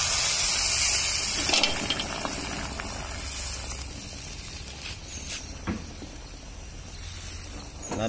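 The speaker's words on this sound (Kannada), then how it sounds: "ಈ ನೀರನ್ನ ಸೇರಿಸ್ಕೊಳ್ಳೋಣ।" Hot water poured into a pan of roasting rava for Bombay rava uppittu, a steady close gushing and pattering of liquid with bubbling hiss, lasting throughout with no talk.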